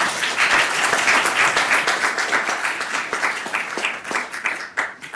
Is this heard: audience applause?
yes